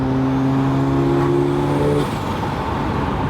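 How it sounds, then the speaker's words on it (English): A turbocharged modified car engine revs hard and steadily for about two seconds, then drops off into a rougher, lower idle. The sound is close and loud, and no one speaks. "Turbo sound is awesome."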